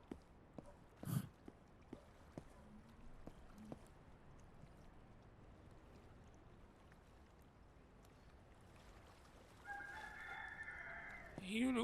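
A rooster crows in the video game Traders Life Together, one clear call rising near the end after a quiet stretch of faint scattered clicks and low background hum.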